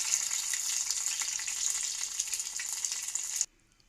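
Poha bajji fritters sizzle steadily in hot oil, a close, bright, continuous frying crackle with no voices that cuts off abruptly near the end.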